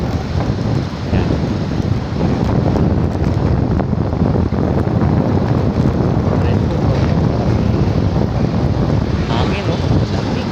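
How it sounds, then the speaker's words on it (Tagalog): Steady, roaring wind buffets the microphone during a bicycle ride through Manila near the sea, loud and unbroken for the whole stretch, with voices faintly underneath. "Hangin, no? Lamig."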